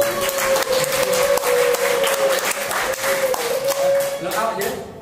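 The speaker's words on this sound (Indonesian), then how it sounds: "Tepuk tangan" A small group of people clapping their hands, a loud sustained patter of individual claps over a steady tone, with some voices mixed in.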